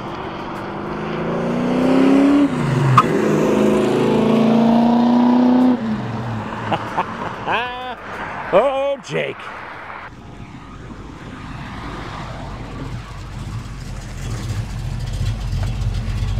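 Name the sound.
1969 Dodge Dart with 4-speed accelerating hard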